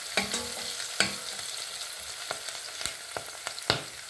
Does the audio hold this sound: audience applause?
no